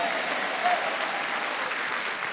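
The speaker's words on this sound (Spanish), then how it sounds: "Vamos, denle un aplauso fuerte" Applause from a church congregation during a pastor's sermon, a steady dense wash of many hands clapping at moderate level, continuing evenly throughout without a voice over it.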